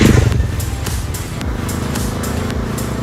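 A Bajaj Dominar 250 motorcycle engine runs with a gruff, grunty thrum, loud and close, pulsing in a regular rhythm as it settles from a heavier opening into a steady beat, with no talking.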